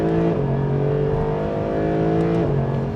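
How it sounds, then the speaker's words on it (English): A Mercedes-AMG SLS Black Series engine revs hard under acceleration, its loud, steady exhaust note climbing in pitch, dipping briefly at a shift, then pulling again close up for the full stretch. "The cracks and pops on downshifts."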